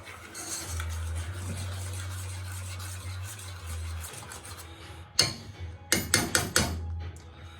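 Beans are stirred in a pan on the stove over a low steady hum, ending in a burst of close, sharp clatters as the utensil scrapes and knocks against the pan.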